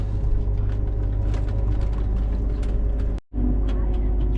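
Farm truck driving off while towing a trailer carrying a combine header, a steady close engine rumble with rattling and a brief dropout near the end.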